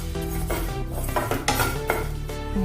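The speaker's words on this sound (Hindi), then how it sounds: "इसको भी हम थोड़ा सा भून लेंगे, अच्छे से खुशबू आने तक इसको भूनेंगे।" Fenugreek seeds being dry-roasted in a pan give off a steady clatter and scrape of a utensil against metal, with light clinks throughout.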